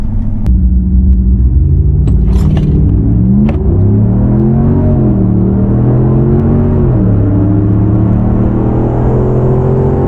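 A 2019 Ram truck launches in four-wheel drive high, its engine roaring loudly and rising through several gear-like pitch sweeps, then holding a strong steady drone, with a few sharp clicks early on.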